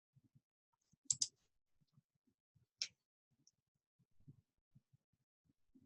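Two sharp clicks of a computer mouse sound close and quiet against near silence. Faint low knocks and rustles are scattered around them.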